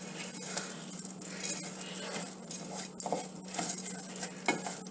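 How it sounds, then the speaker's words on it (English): Rice fries in a pan with oil before any water goes in, giving a steady sizzle under repeated scraping and stirring from a utensil, close and moderately loud, with no talk. "I fry it kind of prior to putting water in it."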